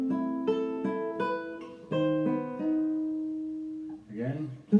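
Guitar plays a short passage, a handful of clean plucked notes ringing out and decaying, quiet and close, with a brief voice at the very end.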